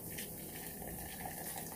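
Cooked instant ramen broth poured from a pot into a bowl, a brief, steady, faint liquid splash and gush with no talking.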